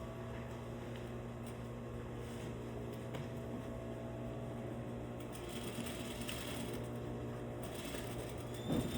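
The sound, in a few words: sewing machine back-stitching a facing and collar to a bodice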